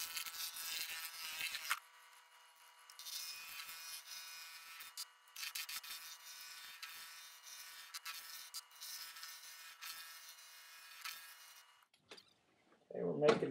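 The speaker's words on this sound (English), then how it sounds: "So now we just need to make this a round cylinder, and we'll go from there. Roughing gouge to start." A roughing gouge cuts a maple blank spinning on a wood lathe, giving a steady hissing buzz that runs in long stretches broken by short pauses. A voice speaks briefly near the end.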